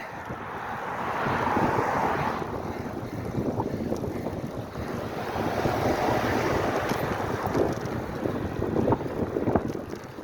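Wind buffeting a microphone outdoors during a long run at a battlefield park, a continuous loud rumbling roar with gusty swells and no talking.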